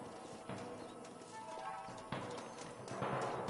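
Horses clip-clop on a canyon trail in the Red Dead Redemption video game, with rhythmic hoof beats over an ambient game soundscape, moderately near and fairly quiet.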